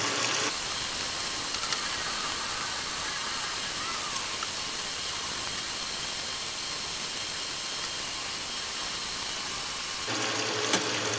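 Chicken browning in a pan for Bicol Express gives a steady, even sizzle and hiss that holds for about ten seconds, loud and close, with no voices.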